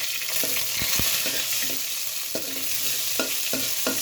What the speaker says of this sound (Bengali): পাঁচফোড়ন দিয়ে তেলে দিব। দিয়ে দিচ্ছি আদা কুচি।